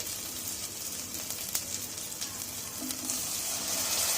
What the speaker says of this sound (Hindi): अदा रसुण पेस्ट पकई दीची